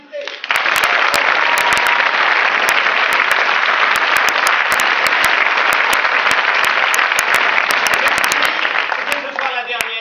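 A theatre audience applauds a French stage comedy, a dense, loud and sustained wall of clapping that runs for about ten seconds before thinning slightly near the end.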